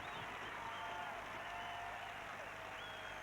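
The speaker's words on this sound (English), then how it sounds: "this young Scot now receives the acclaim of this crowd in the main stand" A stadium crowd in the main stand applauds a young Scottish winner of a women's 10 km race, a steady, dense wash of clapping that stays loud and even throughout, with a commentator talking over it.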